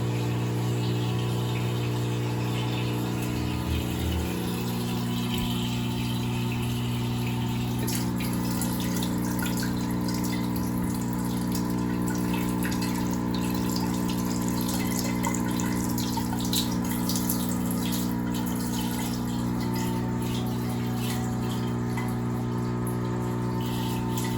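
Water circulating steadily through a PC water cooling loop for an i9-14900KS build, with a continuous hum and trickling flow, a pump drone beneath and faint splashing, constant and close throughout.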